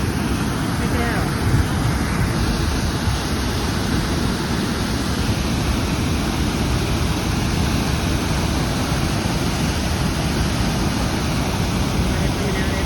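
Water pours out at an old dam with metal works along a creek trail, a loud, constant rushing roar that fills the whole stretch without a break.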